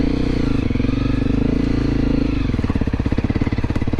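A Honda CRF250L Rally motorcycle rides offroad, its single-cylinder engine droning loud and close, then shifting to a faster, choppier pulsing beat as the rider pushes on.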